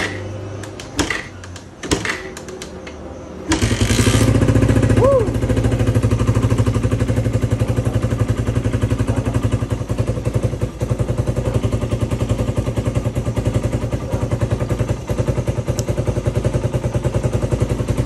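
A few quiet knocks and clatters, then a Suzuki Raider 150 carburetor motorcycle engine kick-starts and keeps running loud and close with a steady, throbbing idle.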